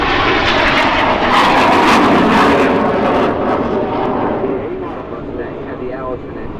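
An early-model P-51 Mustang with a liquid-cooled engine of about 1,500 horsepower roars loudly and steadily overhead, fading slightly as it passes, with voices partly mixed in.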